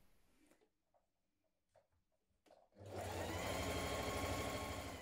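After a few soft handling clicks, a sewing machine starts up and runs steadily, hemming a knit cardigan with a fast, even whirring stitch that continues to the end.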